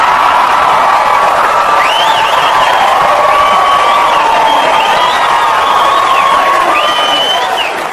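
Comedy club audience at a stand-up show laughing and cheering in a loud, continuous crowd roar with scattered whoops, close and dense throughout.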